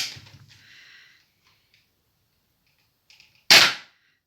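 A Nerf X-Shot toy blaster fires once, a single sharp snap close by, after a brief quieter stretch with faint noises.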